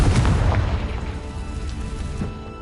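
A Confringo blasting spell explodes in Hogwarts Legacy on PS5: one loud, close, deep boom that rolls out and slowly fades over a couple of seconds.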